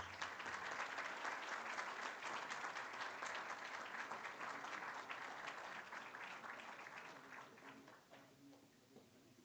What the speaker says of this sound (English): let us applaud the hard work and dedication that this accreditation represents.